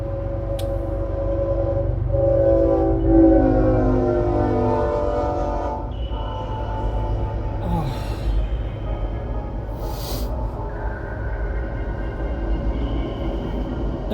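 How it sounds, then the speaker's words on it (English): A train passes in Metroid Prime 3, a rumbling rolling clatter with a tonal horn-like swell early that fades, followed by sparse metallic clanks and hisses. "Incoming train."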